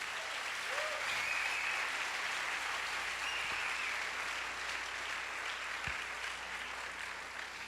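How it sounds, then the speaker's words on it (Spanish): A congregation in a church gives louder applause, a broad, even roar of many hands clapping that holds steady and somewhat distant throughout, with no talking. "denle un aplauso más fuerte"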